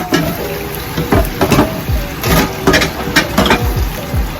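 Water splashes and gushes into a pan in uneven bursts, with sloshing and clanking pulses, close and fairly loud.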